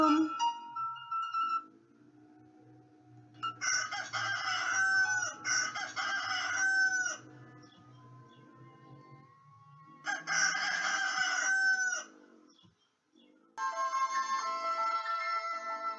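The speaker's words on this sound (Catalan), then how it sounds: "El meu bec no és de mentida, el gall soc" Rooster crowing several times in separate bursts, loud and close, each call rising and falling, with quiet gaps and a low hum between them.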